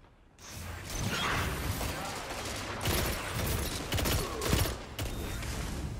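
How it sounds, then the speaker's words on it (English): Rapid gunfire and team shots in a Destiny 2 match, a dense continuous barrage of shots and impacts with a few louder bursts, steady throughout. "Lots of team shots going down."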